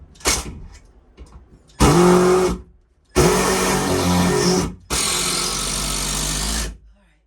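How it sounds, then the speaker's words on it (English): A power drill drives screws into a wooden composting toilet bench at an off-grid build, in three loud, close whirring runs: a short one, then two longer ones, separated by brief pauses. "I'm going to put some more screws in these, all of these."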